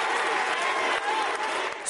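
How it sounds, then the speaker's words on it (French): Sustained applause fills a Paris synagogue during a memorial ceremony for victims of a terrorist attack, a dense, steady wash of clapping from a large crowd with faint voices mixed in. "Sous les applaudissements, François Hollande et Benjamin Netanyahou"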